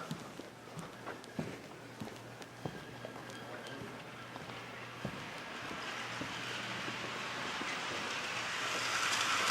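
Rail cars move through the yard at the Wilmington Railroad Museum, sparse clanks and knocks at first, then a rising rumble and hiss that grows louder toward the end as the train gets under way.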